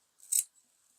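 A single quick snip of scissors cutting coat fabric while opening a welt pocket, crisp and close in near silence.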